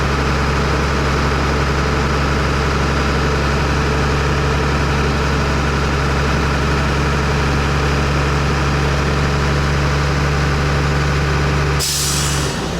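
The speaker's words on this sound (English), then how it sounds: "Okay, it's charged out about 125, the air dryer dumped." A heavy truck's engine idles steadily and close for about twelve seconds, then its air brake dryer purges with a sudden loud hiss at the end, with no talking.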